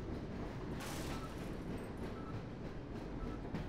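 Steady rumbling rattle of a train rolling along rails in Half-Life, a continuous loud drone with faint rhythmic clatter and no voices.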